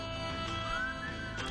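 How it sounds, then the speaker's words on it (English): A melodic whistled tune in Candy Crush video game music, rising and gliding over soft background music, steady and moderately quiet. "The whistling just really brings it home for me."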